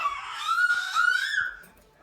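A pet budgerigar lets out a loud, sustained screech lasting well over a second, close up, with a second harsh cry following before it fades, with no talking over it.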